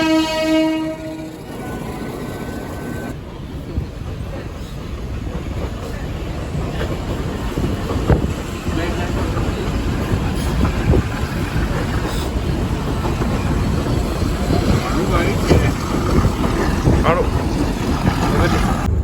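A train near Trincomalee blasts a loud horn at the start, then rumbles and clatters steadily along the rails, close and continuous, with voices talking over the running noise.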